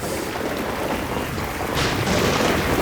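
Heavy rain pouring in a downpour with thunder, a steady dense roar of rainfall that swells louder near the end, loud and continuous with no talk.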